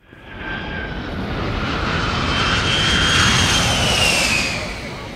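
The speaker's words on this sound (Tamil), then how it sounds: "ப்ளீஸ் ஸ்விட்ச் of your phone, the flight is taking of." A jet airliner takes off with a broad, rising engine roar and a high turbine whine that swells steadily and holds loud throughout, with no talk over it.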